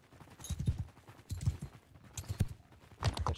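Horse hooves pound in Mount & Blade II: Bannerlord, a fast irregular run of dull thuds under a busy battle din with faint distant crackling.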